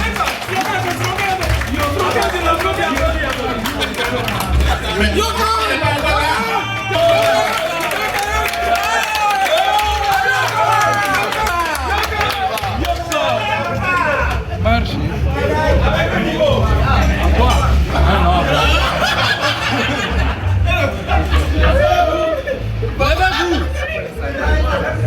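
A crowd applauds at an anniversary award ceremony in Benin, a steady wash of clapping blended with dense chatter and cheering, while a voice speaks over the noise throughout.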